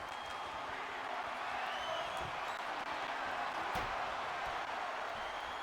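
A wrestling show crowd cheers and applauds in a steady, dense roar that holds at an even level throughout, with scattered whoops rising out of the wash of noise.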